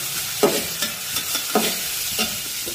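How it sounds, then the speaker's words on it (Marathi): Onion frying to a light brown in a pan for a spicy chicken curry, an even sizzle with a few distinct spatula scrapes at a slow rhythm, close and without voices. "एकसारखा हा कांदा असा हलवून घ्या, म्हणजे सगळीकडून तो व्यवस्थित भाजला जाईल"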